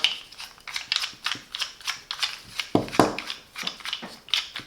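The clamping nut of a Parkside PKLL 7 F5 cross line laser level mount is being unscrewed and the mount swiveled: a close, rhythmic run of small plastic clicks and ratcheting scrapes, about two per second, with one louder grinding knock midway.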